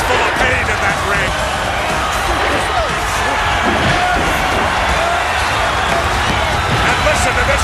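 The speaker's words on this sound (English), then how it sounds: "listen to this capacity crowd coming to their feet almost" A capacity arena crowd in the wrestling video game Smackdown vs Raw roars in a dense, constant wall of cheering, loud and unbroken throughout, with commentary voices mixed in.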